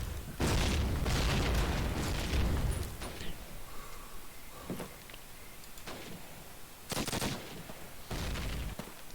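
A grenade detonates in the World War II shooter Call of Duty: United Offensive, a loud boom among bursts of gunfire, with several blasts spread through the clip.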